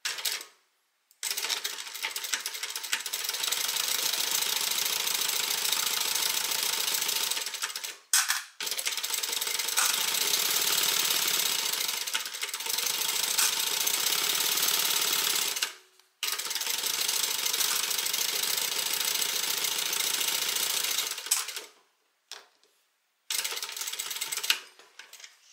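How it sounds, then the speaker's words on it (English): A sewing machine stitches a tote bag in long, steady mechanical bursts, a few seconds to several seconds each, separated by short pauses and a brief back stitch near the end; close, clear and without talk. "I took a good back stitch at the beginning and the end"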